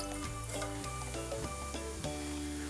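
Whole spices and cumin seeds sizzle steadily in hot oil for chicken karahi, a continuous frying crackle with a few soft stirring knocks and clicks, close and unbroken, no voices.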